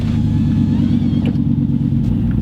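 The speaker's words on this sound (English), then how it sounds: "Good truck. Keep on misfiring" A truck engine that is misfiring, rumbling steadily and loud close by, its uneven low pulsing running continuously under outdoor noise near a lake bank.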